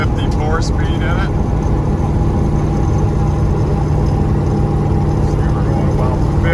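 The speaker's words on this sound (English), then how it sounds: "We're out driving our 83 Chevy C10 4-wheel drive shortbox. Got a 350 4-speed in it." A 1983 Chevrolet C10 4x4 shortbox pickup with a 350 V8 and four-speed manual cruising on the road, with a constant loud low engine drone and road rumble from inside the cab.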